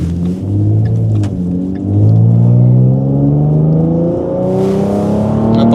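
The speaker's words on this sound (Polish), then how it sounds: "pokażemy Państwu przyspieszenie tego auta już na instalacji gazowej" A 2015 Ford Mustang 3.7 V6, 305 hp, running on an LPG conversion, accelerates hard through several gears, engine note climbing and dropping at each shift, loud and close.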